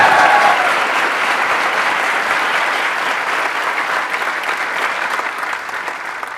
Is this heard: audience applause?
yes